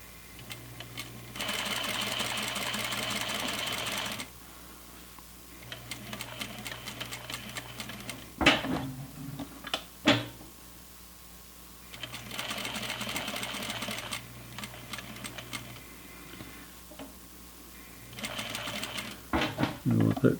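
Sewing machine running stitched seams along flannel pajama pants, in several long whirring bursts with pauses between them, fairly quiet, with handling clatter and brief talk in the gaps.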